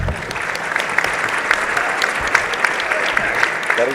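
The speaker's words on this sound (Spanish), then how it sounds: "¿Puede haber un doble aplauso para el segundo expositor que ha respetado el tiempo, por favor?" Sustained audience applause fills a conference hall during a hydrocarbon investment forum, a dense even wash of many hands clapping with scattered sharper claps, steady and loud throughout.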